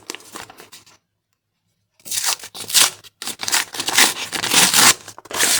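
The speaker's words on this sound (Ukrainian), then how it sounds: "Відкриваємо наш пакетик." A paper surprise packet being torn and crinkled open by hand, with sharp close ripping bursts, a full second of silence, then a run of louder rustling tears and crumpling.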